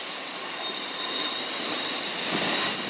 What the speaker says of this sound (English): pulling out there is the 1124 London Midland service to Milton Keynes Central